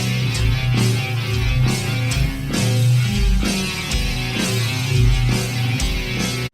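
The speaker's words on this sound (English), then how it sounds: "see if you can pick it up in this little slowed down version of that main riff." Distorted electric guitar plays the main riff of a song at a slowed tempo, a dense, continuous stream of chugging palm-muted notes and accents that is loud and steady throughout.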